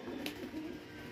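Pigeons kept for sale coo softly and continuously, faint and low in level, with no voices.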